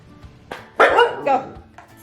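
A Siberian husky gives a few short barks and yips, close by, one louder bark standing out among brief bursts during an indoor training session.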